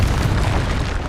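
A blasting-curse explosion in Hogwarts Legacy, heard as a continuous heavy booming rumble with low crackle, loud and close throughout with no clear separate onset.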